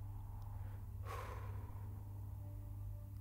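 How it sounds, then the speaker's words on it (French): A single breath exhaled out through the mouth during a breathing exercise, a soft airy whoosh of about a second over a low steady hum, faint and close. "Et vous soufflez pendant 6 secondes."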